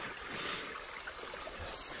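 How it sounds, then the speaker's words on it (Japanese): Murmuring of a mountain river stream, a faint steady trickle heard from a distance on a pass road, with a little background noise. "なんかいいっすね、なんか、川のせせらぎがね"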